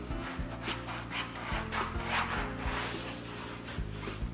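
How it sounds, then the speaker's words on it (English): A towel rubs back and forth over the sidewall of an Audi S5 tire to remove excess oil, giving soft, repeated close wiping strokes at low volume. "I'm just going to wipe the whole wall of the tire."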